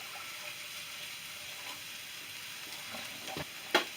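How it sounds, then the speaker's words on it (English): Milk pours into melted butter in a hot pan, giving a soft, steady sizzle and liquid hiss, with a brief louder clack at the finish. "So now we're going to take this milk and dump it right in there with the butter."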